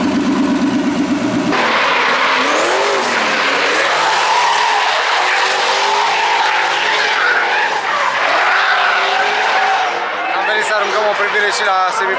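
A drift car in a drifting event in front of the Palace of the Parliament skids with sustained, loud tire squeal and engine roar throughout, near and continuous, with a brief distinct engine burst at the start.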